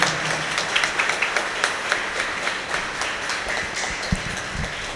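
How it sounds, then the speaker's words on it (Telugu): A church congregation at an anniversary celebration claps loudly together, a dense burst of applause with sharp individual claps standing out, sustained for several seconds. "అందరం సంతోషంతో గట్టిగా చప్పట్లు కొట్టి దేవుని కృతజ్ఞతలు తెలియచేద్దామా?"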